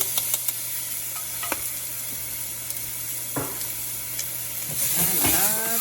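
A tablespoon of garlic sizzling in a pan alongside bacon, a steady crackle with scattered utensil clicks and scrapes, swelling louder toward the end.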